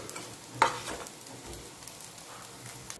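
Potato patties bound with poha frying in a little oil, a quiet steady sizzle with one brief sharp clink early on and faint stirring sounds.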